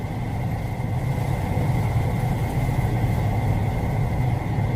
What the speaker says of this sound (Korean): 왼쪽으로 다 돌려 후진 기어 넣고 자 갑니다